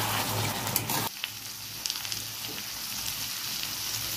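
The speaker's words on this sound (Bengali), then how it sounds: "সব মশলা দিয়ে দিয়েছি, এবার ভালো করে কষে নেব।" Potatoes fry with chilli, coriander and cumin powders in a pan for a Bengali potato dum, giving a loud, broad sizzle that drops abruptly to softer frying with scattered stirring scrapes, and no talk.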